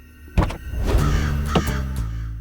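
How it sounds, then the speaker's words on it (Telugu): A black crow lands and caws, giving a few sharp, harsh calls close by over a low rumbling background, with no speech. "ముందు దొంగ చూపులు చూసుకుంటూ ఓ నల్ల కాకి దిగుతుంది చూడు."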